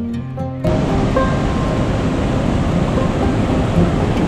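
A river beside a Himalayan trekking path near an avalanche-risk area on the way to Machapuchhre Base Camp rushes loudly and constantly, a dense close roar after a short quieter start.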